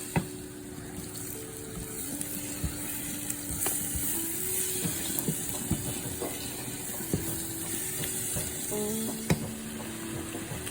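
An egg cooking in a pan until well done and nearly burnt, giving a steady low sizzle with frequent small clicks and scraping taps from a utensil throughout, fairly close and without talk.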